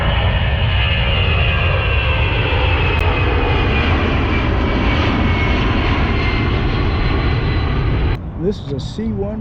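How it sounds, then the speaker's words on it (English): A C-141 cargo airplane roars loudly and steadily with its engines near an airfield, the rumble holding for several seconds before cutting off as a voice speaks. "This is a C-141, another big cargo ship, or another big cargo airplane."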